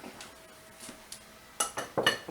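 A metal 9x5 bread pan is handled in a kitchen, producing a few sparse clanks and clinks that grow louder in a quick cluster toward the end.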